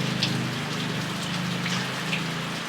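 Rain in an MMO RPG video game patters steadily over a low droning hum, with a few brighter drops standing out in an even wash of noise.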